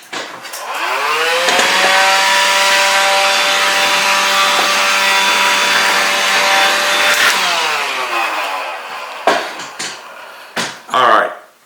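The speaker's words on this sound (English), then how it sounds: "use my little vacuum cleaner here and clean up because I got a little bit of a craft fur mess everywhere" A small handheld vacuum cleaner sucking up loose craft fur, whining up to a steady high-pitched roar for several seconds before winding down, followed by a few brief knocks and handling noises.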